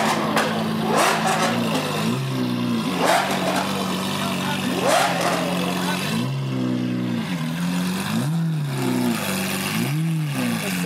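Several Lamborghini Aventador engines rev repeatedly at a car meet in rising and falling sweeps, loud and close, with crowd noise around them.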